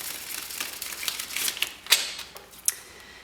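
Tarot cards are shuffled by hand in a soft, papery riffle with scattered sharper snaps and taps, close and fairly quiet, with no talking.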